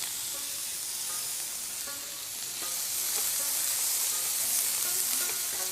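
Food sizzles and fries on a teppanyaki iron griddle, a steady close hiss broken by scattered crackles and pops of stirring.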